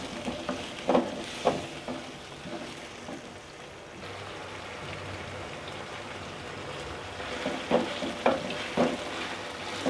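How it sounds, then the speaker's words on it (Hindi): Chicken frying in a pan with garam masala, garlic and ginger, a steady sizzle with scattered crackles and occasional louder pops and stirring clatters, close and fairly quiet, with no talk. "मिक्स करेंगे और अच्छी तरह से इनको फ्राई करेंगे"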